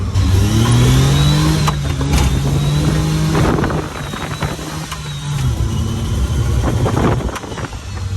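A Mitsubishi mini truck engine revs loud and close, holding a high droning pitch that sags and climbs again as it pushes against the governor at about 25. No one speaks.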